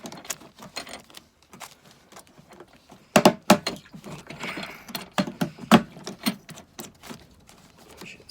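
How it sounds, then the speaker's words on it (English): A nut is tightened onto a cistern float valve, giving a run of close, dry mechanical clicks and ratcheting rasps in uneven bursts, louder and denser midway through. "And then tighten up the nut."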